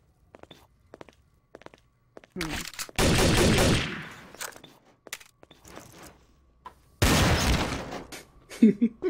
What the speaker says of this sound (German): ich hab gerade einen Schuss gehört